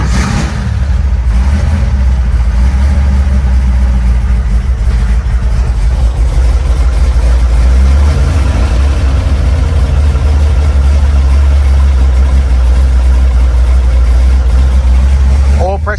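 Supercharged 1955 Chevy big-block V8 cranking over and settling into a loud, steady idle, its low rumble continuous and close throughout, with a voice talking over it.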